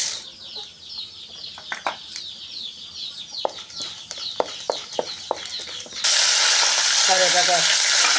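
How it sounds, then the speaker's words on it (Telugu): Tempering spices crackle and pop in hot oil in a home kitchen pan, with irregular sharp spatters before a louder, dense sizzle as more ingredients go in, while chickens cluck faintly nearby. "తాలింపులు వేస్తున్నానండి"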